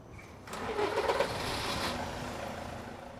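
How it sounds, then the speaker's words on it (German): A tow truck's engine cranks and catches, then runs at a steady, fairly loud idle as the truck pulls away on a German street where buses pass. No one speaks. "Ich fahre jetzt mit meinem LKW hier hin und du fährst mit deinem Wagen dahin."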